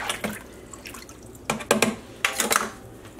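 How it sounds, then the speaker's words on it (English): Dye and fixative are stirred in a pot of water for overdyeing cotton yarn with Rit liquid dye, producing close sloshing and splashing bursts with brief gaps between them. "Let's stir this up."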